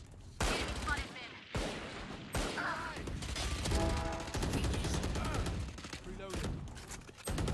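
Gunfire in the game Valorant: rapid bursts and volleys of shots crack loudly and close, with short pauses between strings of fire and game sounds mixed in.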